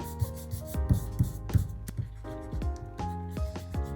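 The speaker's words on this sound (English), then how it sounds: "I think I need my big boy eraser for this." A big eraser rubs across paper while redrawing old artwork, making quick rhythmic scrubbing strokes with rough bursts of friction, close and moderately loud.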